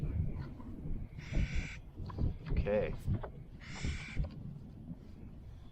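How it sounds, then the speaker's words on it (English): Jays squawking outdoors on Wild Horse Island, a few harsh, raspy calls in short bursts at moderate distance, heard over wind and someone talking. "we can probably hear those jays squawking in the background"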